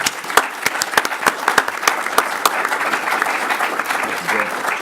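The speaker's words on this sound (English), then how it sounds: "give them a round of applause" Applause from an audience at a Washington policy event erupts with sharp individual claps standing out at first, then settles into a steady, dense wash of clapping throughout.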